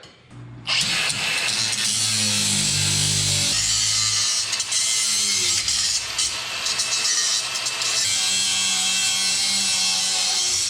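A power tool cuts through the park brake cables on a 1970 GMC truck, starting abruptly and running as a loud, steady, harsh grinding whine with small shifts in pitch, close by and without talk.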